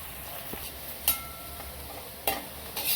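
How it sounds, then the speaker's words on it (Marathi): Sliced onion frying in hot oil, a steady close sizzle with occasional stirring clinks and scrapes from a utensil, no voices. "तळून असा लाल जरा तळून घ्यायचा कांदा।"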